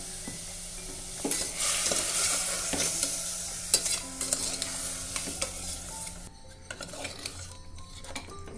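Spoon stirring mutton pieces with spices as they fry in a pressure cooker for Chettinad mutton chukka, steady sizzle under repeated scraping clinks of metal against the pot, close and continuous before quieting near the end.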